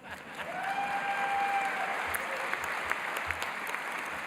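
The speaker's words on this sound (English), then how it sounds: "Parents, you can applaud now." A crowd at a university commencement ceremony applauds steadily, a dense wash of clapping that swells and holds, heard from a distance with a faint tone briefly gliding above it.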